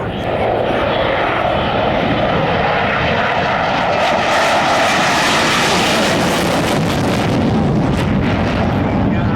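A military jet rolls down the runway and climbs hard at a 1997 air show, a loud, steady roar that swells and builds. An announcer talks over the engine noise.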